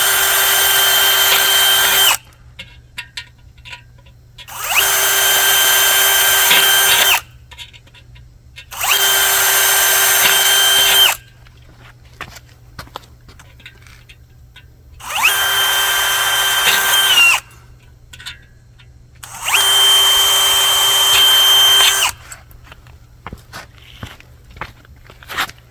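A power drill bores holes in aluminum pool fence posts in a backyard, five loud bursts of several seconds each with short pauses between them, with faint shuffling and handling sounds in the gaps.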